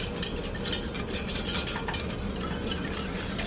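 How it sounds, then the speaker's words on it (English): Chocolate almond milk mixture simmering in a pot while being stirred, a steady close scraping and bubbling swish with a brief faster burst of strokes early on, no voices. "I'm going to let this just simmer very slowly for about 4 or 5 minutes"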